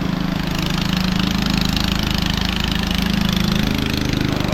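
A motor boat engine on a rocky hill-country river in Bandarban drones steadily and loudly with a low, buzzing, rhythmic chug that holds constant throughout, with no voices.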